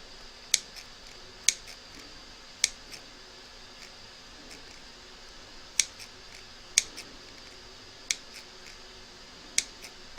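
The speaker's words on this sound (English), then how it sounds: "So just snip around the edge" Scissors snip around the edge of fabric reindeer slipper ears, sharp isolated clicks spaced about a second apart against a quiet room.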